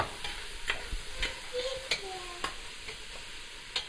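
Mussels with tarragon sizzle as they are sautéed and stirred in a pot, with soft sharp clicks and scrapes of the stirring spoon recurring every half second or so over a steady frying hiss.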